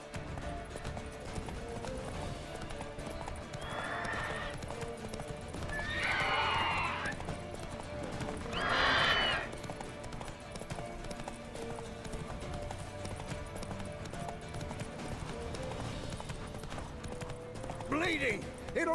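Roach the horse in The Witcher 3 galloping with rapid clip-clopping hooves and several loud neighs and whinnies, set over a constant game soundscape of music and ambience.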